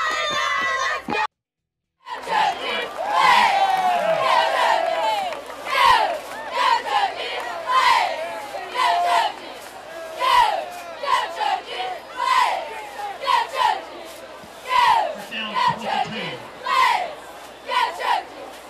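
Cheerleaders and a crowd at a Friday night high school football game shout rhythmic cheers together, loud and sustained, after a brief cut to silence near the start.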